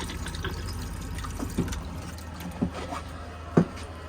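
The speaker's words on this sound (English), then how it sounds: "you'll get a flow of fresh water into the bowl" Fresh water from the pump flows into the toilet bowl of a 2025 Chausson X650 motorhome, a faint, steady trickle with a few soft knocks.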